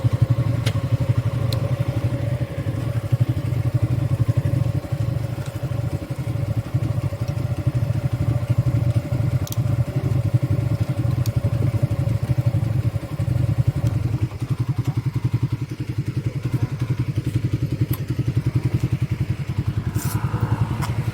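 A motorcycle engine idles steadily at night with a low, continuous rumble and a faint whine on top. It stays close and loud for about fourteen seconds, then softens a little and carries on with occasional clattering knocks.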